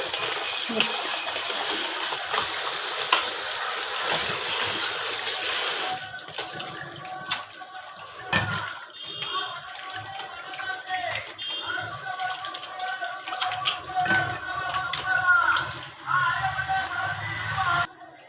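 Goat intestines are washed by hand in water: a steady rush of running water first, then irregular splashing, sloshing and wet handling noises with brief pauses.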